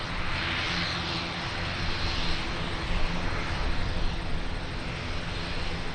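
An ATR turboprop airliner at Auckland Airport, with a loud, steady broadband engine roar and whoosh holding throughout, fairly near and without talk.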